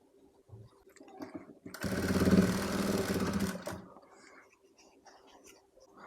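A sewing machine runs in one burst of about two seconds, stitching elastic onto a baby's party-wear skirt. The mechanical whir is fairly close, with quiet handling noises before and after and no voices.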